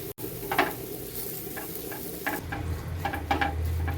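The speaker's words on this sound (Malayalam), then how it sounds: "ഇതിപ്പോൾ വഴറ്റിക്കൊണ്ടിരിക്കുകയാണ്" Chicken curry sautéing in a pan, a steady sizzle running throughout with intermittent scraping and stirring clicks from a utensil, fairly close and with no talking.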